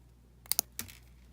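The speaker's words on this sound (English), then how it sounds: "I'm going to take my wire cutters and snip this off." Wire cutters snip through jewelry wire while finishing a wood bead dangle drop earring, giving two sharp close clicks in quick succession and then a third softer snap, all in a quiet room.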